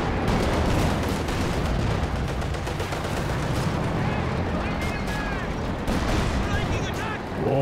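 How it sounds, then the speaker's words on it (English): Machine gun fire in Company of Heroes 2, a gun set up in front of a KV tank during a 2v2 match, rattling continuously in dense overlapping bursts among other battlefield gunfire and rumble throughout. "setting up the machine gun in front of the KV here"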